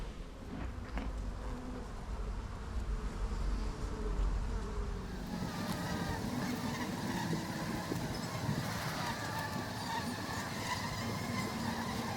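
Honey bees buzz steadily at an open hive kept in a 1912 mansion, where comb is held temporarily with rubber bands; a dense, continuous close drone holds throughout with no talking.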